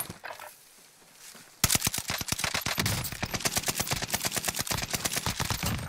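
After a quiet moment, a sudden burst of rapid automatic gunfire erupts in a video game and keeps going as close, loud, fast repeating shots for several seconds.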